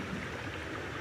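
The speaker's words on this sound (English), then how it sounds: "And so there's water going around." Steady flowing water ambience in a peaceful video game area, a continuous broadband wash like a gentle stream, even and unbroken throughout with no voices.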